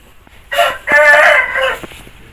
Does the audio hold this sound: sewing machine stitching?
no